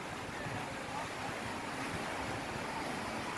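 Ocean surf washes steadily at a surf spot on the northern coast of Jeju, a continuous loud roar of waves mixed with wind noise on the microphone.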